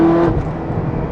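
A car pulling hard in first gear with the AC off, a loud close engine roar that drops slightly after a brief steady tone, heard alone without talk.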